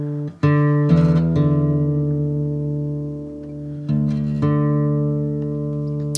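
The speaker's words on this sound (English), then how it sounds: "So this is called drop D tuning" Acoustic guitar strings in drop D tuning plucked and left ringing, low open notes sustaining together, with a second strum partway through.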